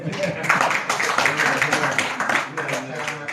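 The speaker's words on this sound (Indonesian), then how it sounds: "tepuk tangan Iya. buat beliau" Applause from a hypnosis training audience honoring a participant: a dense wash of claps that runs steadily for several seconds, with voices talking over it.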